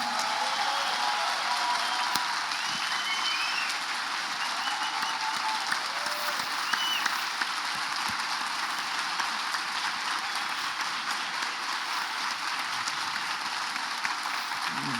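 An audience at an event honouring architect Raquel Alves claps in a dense, sustained round that stays even and moderately loud throughout, with no talk.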